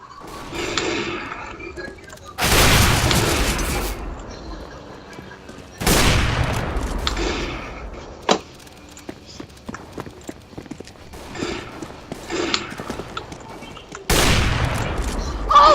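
In a competitive match of Counter-Strike: Global Offensive, several loud bursts of gunfire come in separate waves, each a few seconds long, with quieter footsteps and clicks between them.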